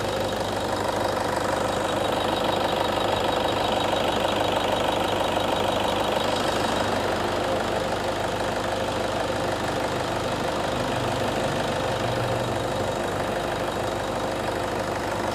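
A Toyota Innova 2KD diesel engine idles steadily in a workshop after assembly, a continuous close, loud rumble with a knocking mechanical texture that holds unchanged throughout, no voices.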